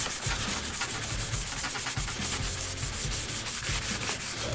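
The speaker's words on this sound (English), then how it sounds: "just going over it with just again a fine sponge" A fine sponge sander is rubbed over the finish of a Squier by Fender Mustang guitar body, making a steady, close, loud scratchy swish in back-and-forth strokes with no talking.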